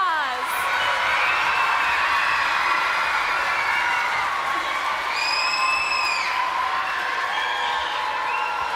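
A concert-hall audience at a Detroit Symphony Orchestra classroom performance of The Planets applauds and cheers for fourth graders from the Detroit Public Schools, a sustained, dense wash of clapping with whoops and a bright whistle partway through.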